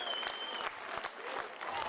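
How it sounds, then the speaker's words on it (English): Crowd at a baseball game between the Express and the Gulls breaks into steady, dense applause, a continuous wash of clapping heard fairly close for a couple of seconds, with a faint whistle tone running through it. "the crowd is starting to clap"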